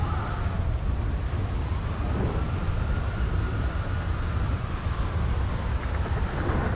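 Loud, continuous rumbling thunder in the video game GTA V, a sustained storm roar with rain-like hiss filling the whole stretch, no speech.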